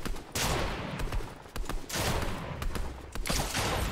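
Rapid bursts of gunfire from a Fortnite match, close and loud, several volleys cracking in quick succession with short gaps between them.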